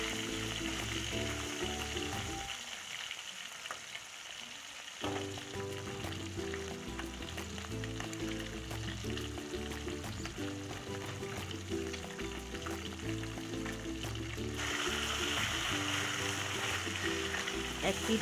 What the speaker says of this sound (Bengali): এবার মাছটাকে ভালো করে উল্টে পাল্টে ভেজে নিচ্ছি।